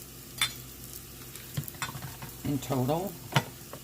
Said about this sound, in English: Move the butter around, make sure nothing sticks.